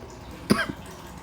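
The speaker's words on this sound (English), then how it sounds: "I'm coughing." Two short, harsh coughs from one person close by, spaced well apart, with quiet room tone between them and no talking.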